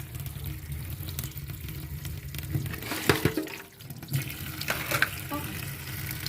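Tap water runs and splashes while raw crabs with large claws are washed by hand in a sink, a steady close hiss broken by sharper splashes and clatters, with no one speaking.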